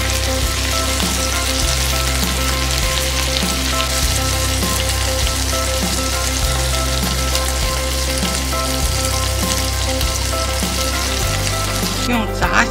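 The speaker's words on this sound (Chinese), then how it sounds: "用炸虾的那个底油啊，咱们放上蒜末，蒜炒出香味了" Minced garlic sizzles in the leftover oil from frying prawns, giving a steady, dense crackle that lasts throughout with a brief clatter near the end, without speech.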